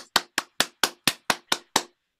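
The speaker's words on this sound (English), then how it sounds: "can we have a round of applause for all the open micers" Applause for open mic performers at a Crafty Crows evening comes as eight crisp, evenly spaced claps, close and loud, each sharp strike fading quickly before the next, then stopping into silence.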